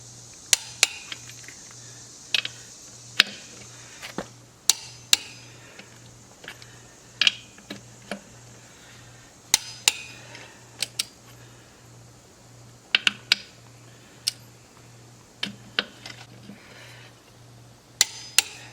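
Sharp metallic clicks from a torque wrench set to 150 foot-pounds tightening the wheel nuts on a Kubota L2501 tractor, heard as paired and single clicks at irregular intervals over a steady low hum.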